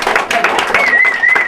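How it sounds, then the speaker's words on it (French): A brief burst of applause from a small crowd, steady clapping for a moment with a faint tonal whine running through it. "Super, on applaudit."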